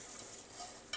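Vermicelli and cashews frying in a pan for caramelised semiya payasam, giving a steady soft sizzle with a couple of brief stirring scrapes, close and moderately quiet throughout.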